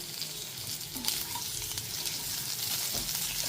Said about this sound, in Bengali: আলুটা যাতে খুব তাড়াতাড়ি ভাজা হয়ে যায় ওই জন্য আমি ঢাকা চাপা দিয়ে ভেজে নিচ্ছি